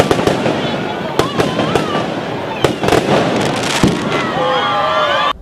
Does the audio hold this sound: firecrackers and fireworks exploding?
yes